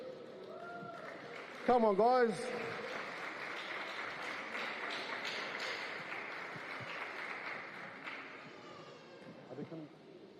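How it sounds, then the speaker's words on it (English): Conference audience applauding Restoration Church, a dense wash of clapping and cheering that swells after a loud shout near the start, then fades, with someone speaking over it. "Give a round of applause to Restoration Church."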